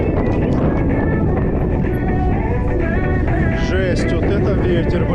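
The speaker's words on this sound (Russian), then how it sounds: "Настолько сильный ветер" Strong outdoor wind on an April route through Crimea near Feodosia and Koktebel roars and buffets the microphone with a constant, heavy rumble. Fainter rattles and whooshes ride on top, and it never drops away.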